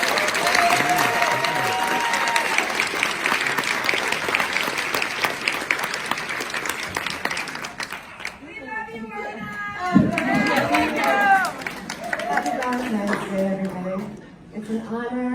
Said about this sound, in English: So let's hear it and give a warm welcome to Dr. Orna Gil.